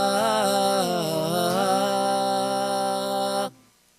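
A single sung vowel held for about three and a half seconds, layered with a processed harmony voice set a major second apart, then cutting off abruptly.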